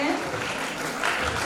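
Applause from an audience at a college foundation day ceremony, a dense wash of many hands clapping steadily throughout, with a slight swell near the end.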